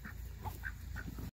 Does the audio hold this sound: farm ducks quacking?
yes